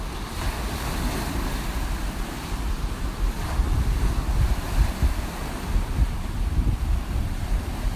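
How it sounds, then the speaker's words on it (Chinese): Ocean waves crash on the shore at Lanyu island, Taiwan, at sunset, with rough surf churning in a constant low roar, swelling surges and gusting wind buffeting the microphone throughout. "听听这个海浪拍打岸边的声音"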